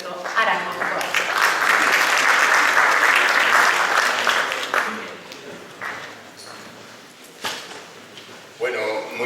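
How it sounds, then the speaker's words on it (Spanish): Audience applause welcoming an urban-planning architect to the stage at a city-planning forum in Lima, loud and sustained for about five seconds, then thinning to scattered claps before a final brief burst. "Con un cálido aplauso recibimos al arquitecto urbanista Gilberto Arango Escobar."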